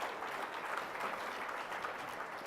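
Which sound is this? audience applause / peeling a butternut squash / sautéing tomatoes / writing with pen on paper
audience applause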